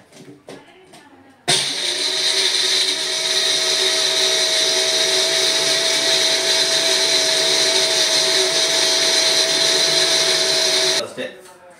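A Bullet mixer grinder with its wet blade fitted grinds ginger garlic paste. The motor kicks in abruptly with a loud, steady, high-pitched whine that holds for about nine seconds, then cuts off.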